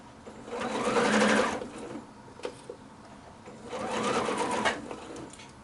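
A sewing machine runs in two sustained bursts, stitching down a double quilt binding, with a brief pause between runs and a few small handling clicks in the gap.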